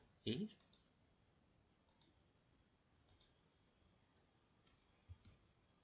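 Computer mouse clicking while working in a spreadsheet: a handful of sharp, quiet clicks, some in quick pairs, spaced a second or so apart over a hushed background with a soft thump at the start.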